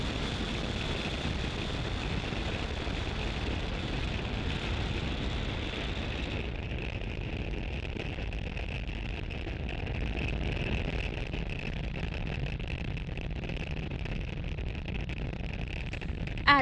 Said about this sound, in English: Falcon 9 has successfully lifted off from Space Launch Complex 40 at Cape Canaveral, Florida